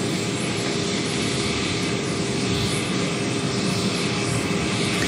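A commercial airplane's engines roar steadily at Soekarno-Hatta airport during a papal arrival, a loud continuous whine and rumble with no talk over it.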